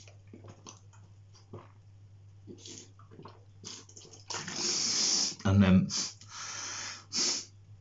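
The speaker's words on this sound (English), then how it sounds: "So tip and sniff." Loud, wet snorting sniffs draw saline nasal rinse up one nostril after septoplasty surgery, repeated in a few close bursts after someone talks briefly.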